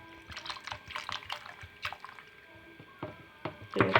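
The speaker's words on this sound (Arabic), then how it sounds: "تعالوا نزوده كمان شويه ميه" Water poured into a pot of lentil soup during cooking, giving soft dripping and liquid splashes in scattered bursts, close and fairly quiet, with a louder pour or stir at the end.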